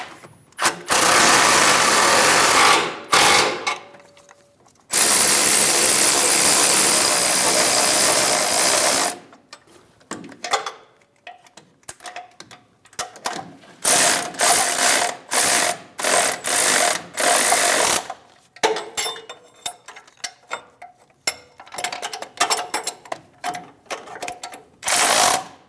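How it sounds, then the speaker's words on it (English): A ratchet tightens the front engine mount nuts and bolts on a 2011-2018 RAM 1500 5.7L V8. Long loud stretches of rapid clicking give way to many short, choppy bursts, close by and with no talk. "Snug down all the nuts and bolts."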